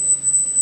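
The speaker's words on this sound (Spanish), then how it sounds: "os voy poniendo pitidos" A single high-pitched electronic beep tone for a hearing test, held steady and unbroken through the moment, thin and piercing over a quiet room with no voices.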